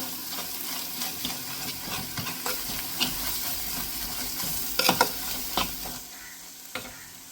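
Onion masala frying in a pan for Kerala-style boti curry, a continuous close sizzle and hiss with repeated scraping stirs and a few louder clatters, no voices.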